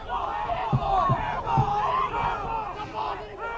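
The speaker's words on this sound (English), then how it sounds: "And crowd into it tonight." Spectators at a boys varsity soccer game yell and cheer in a sustained, roaring crowd noise with rising shouts and a few thumps, heard from a distance at an outdoor field.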